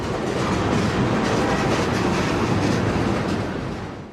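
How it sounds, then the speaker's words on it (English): Freight train of boxcars and tank cars rolls past with a dense, continuous rumble and rhythmic clatter of wheels on track, loud and close throughout, easing slightly at the end. "Behind these boxcars, this freight train is pulling tank cars."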